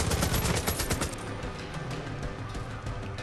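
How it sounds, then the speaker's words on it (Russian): A machine gun rattles in rapid, loud bursts in Far Cry 5, then drops back to softer, more distant fire that keeps crackling in the background. "Пулемет. Пулемет решает"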